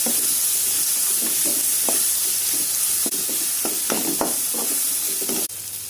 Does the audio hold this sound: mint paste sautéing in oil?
yes